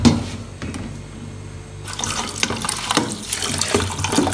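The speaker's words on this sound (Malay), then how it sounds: "Jadi kita ambil air. Kita gunakan air kowe ya." Water running from a tap into a container for cooking cassava leaves, a steady gushing splash that swells louder midway through, heard up close with no talking.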